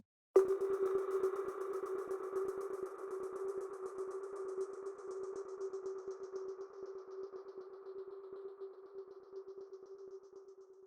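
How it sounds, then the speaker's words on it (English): Tonal percussion in a music track, a bright ringing pitched hit that sustains steadily with a shimmering upper layer, fading slowly over about ten seconds with no voices. "Next, I add this tonal percussion to emphasize some specific areas of the track."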